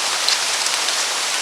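Steady rain falls throughout, a dense even hiss of drops on surfaces, fairly close and continuous with no talking.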